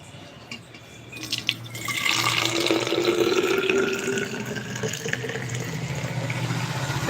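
Liquid poured into a container to be carried to a shop, a loud, close, continuous gush and fill that swells after a couple of seconds and keeps running, with faint handling clatter at the start and no talk.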